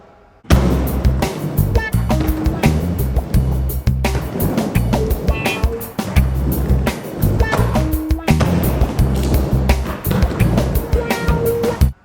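A skateboard rolls fast at an indoor park and rides over a spine ramp. Loud wheel rumble builds and fades in waves, with sharp clacks and thumps as the board crosses the ramp and lands, and several passes follow one another.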